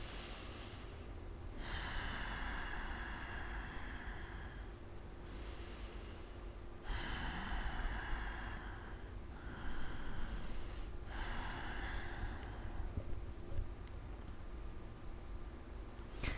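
Deep, slow yoga breathing exercise with long hissing inhales and exhales through the nose, several drawn-out breaths in a steady rhythm, close and clear over a constant background hum.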